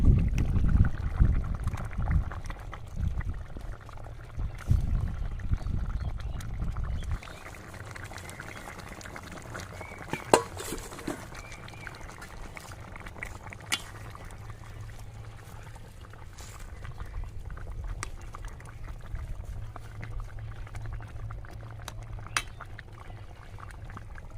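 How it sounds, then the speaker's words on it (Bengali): A large boal river fish goes into a pot of boiling cooking liquid, giving a loud bubbling and splashing burst at first, then a steady low simmer with occasional small knocks and clinks. "এবার আমি মাছটা দিয়ে দেবো"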